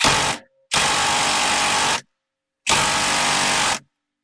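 An impact gun hammers at Loctite-coated bolts on a Jeep JK front driveshaft in three loud, close bursts of rattling buzz, each lasting about one to one and a half seconds and separated by short silences.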